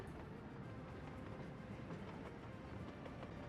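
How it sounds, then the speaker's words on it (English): Train rolling along rails in the Soviet-era city-building game Workers & Resources: Soviet Republic, a steady dense rumble with faint clickety-clack running throughout at even loudness, with no talking. "I've got a feeling the train set didn't like the idea of going round the loop here"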